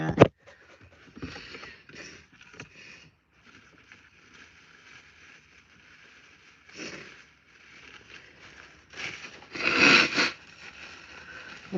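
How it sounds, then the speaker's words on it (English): A person outdoors on a drizzly morning blows their nose repeatedly in rough, breathy bursts, the loudest near the end, with quiet rustling in the gaps. "Blowing my nose up, but I don't mean to be like that."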